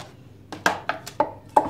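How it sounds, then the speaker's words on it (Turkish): A knife chops bell pepper on a cutting board in a home kitchen, about five sharp close taps spaced irregularly over a quiet background. "Biberimizi de doğruyoruz."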